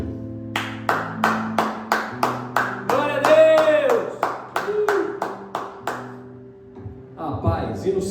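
A church congregation claps in praise, single claps in a steady beat over sustained musical tones, with a voice running through.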